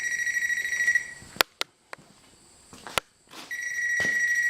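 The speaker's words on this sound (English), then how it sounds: "the alarm is going off, and the little light in there is flashing" A storm surge warning device sounds its alarm in steady tones that break off into a few sharp clicks and clatters, then return, loud and close with no voices.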